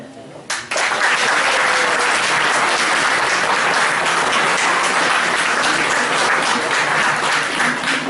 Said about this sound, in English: it was indeed a very wonderful performance. I request you all to once again give a big applause